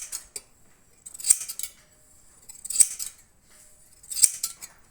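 Scissors trimming a horse's coat, three sharp metallic snips spaced about every one and a half seconds with faint brushing between, close and crisp with no talking.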